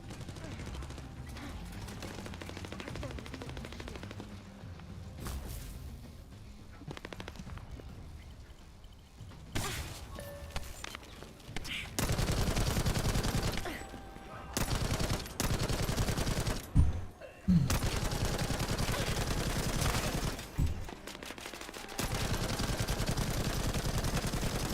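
Rapid automatic gunfire in The First Descendant comes in dense, loud bursts that alternate with quieter stretches, mixed with game effects and occasional talk.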